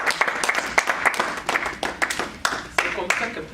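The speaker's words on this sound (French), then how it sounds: "And clap hands for the Lord" A church congregation claps in a quick, steady rhythm during a Hanukkah service, sharp hand claps close and loud, with voices mixed in underneath.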